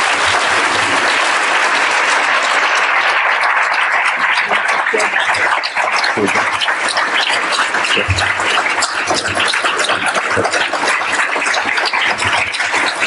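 A large audience applauds Dr. Helen Hobbs onto the stage, loud, dense, sustained clapping that fills the room evenly for the whole stretch with no let-up.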